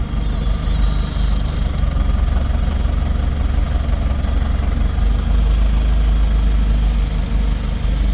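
A garden tractor engine runs steadily at a plow day event, a constant low idling drone with a faint higher whine, close and unbroken throughout.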